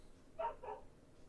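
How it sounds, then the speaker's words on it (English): A neighbour's dog gives two short muffled barks from a distance, faint against quiet room tone in a home setting. "Sounds like a neighbour's dog's kicking off."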